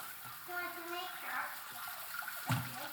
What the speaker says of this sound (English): So first thing when we're doing strawberry preserves is we get all these strawberries which are local. Look at all those. Logo. And we rinse them off.